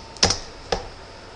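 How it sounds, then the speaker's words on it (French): Two quiet, separate bursts of clicking on a computer keyboard, a short pair of keystrokes and then a single one, close and alone in a quiet room. "Donc je tape GLPI."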